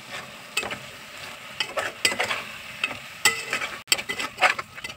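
Mutton curry with tomato pieces being stirred in a frying pan on high heat: repeated close scraping strokes of a spoon over a constant sizzle, with no voices.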